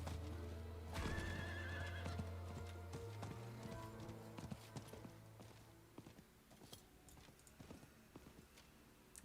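A horse in Diablo 4 gives a loud whinny and then clip-clops along at a steady trot, its hoofbeats fading gradually as it moves away.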